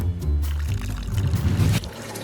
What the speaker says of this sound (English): I'm gonna fill it up with this reverse osmosis water filter that I get my drinking water out of